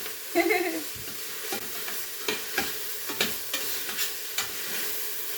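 Steady frying sizzle with a few clinks and scrapes of a utensil stirring in the pan while making chile rellenos, close by with no talking.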